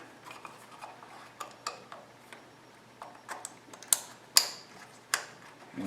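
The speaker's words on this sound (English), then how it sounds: "following the same firing order that is on the harness, just reinstall these clips" Ignition harness clips being pressed back into place on a 2013 Kia engine during a spark plug job, with scattered sharp clicks and small plastic snaps spaced irregularly, close and fairly quiet.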